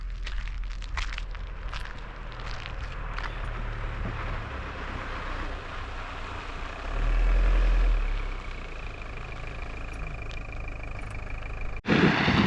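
A two-wheel-drive car rattles and jolts over a rough, rocky track in Morocco, with a steady engine rumble under constant shaking and a heavier thudding stretch midway before a sharp knock at the end.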